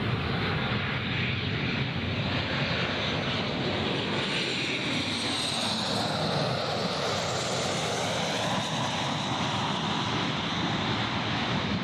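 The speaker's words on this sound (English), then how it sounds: "here's our Qantas 737 now passing over us" A Qantas Boeing 737 passes overhead near Gold Coast Airport, its engines a loud, steady, broadband roar that fills the whole stretch without letup.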